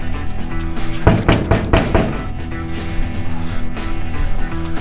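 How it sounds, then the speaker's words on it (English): Loud knocks land on a front door in a quick cluster of about five raps, followed by a low hum and light background noise while waiting. "I did knock loud enough, didn't I?"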